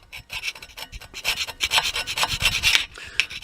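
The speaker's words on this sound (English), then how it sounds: "I don't think you want to see me here scraping all this away." Buildup being scraped off a car wheel rim during a winter-to-summer tire swap, a steady run of close, loud rasping strokes with no talk.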